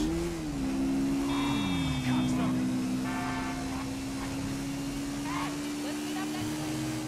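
A Honda CBX250 motorcycle engine in GTA V drones steadily, its pitch rising and dipping as the bike rides, while a voice is faintly present in the background.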